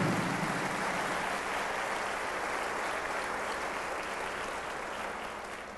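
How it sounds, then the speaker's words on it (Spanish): Sustained crowd applause at a Catholic talk on the Eucharist, a dense wash of clapping that holds steady for several seconds and slowly eases off near the end. "Un aplauso a Jesucristo grande."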